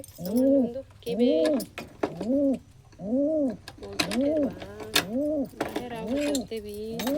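Pigeons coo close by, released outdoors after two days shut in: a run of repeated throaty, rising-and-falling coos in steady rhythm, with a few light clinks and jangles between calls.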